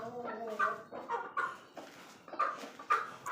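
Fighter chickens kept as show birds cluck and call nearby, a series of short, uneven bursts of clucking with a longer tonal note at the start and no talk.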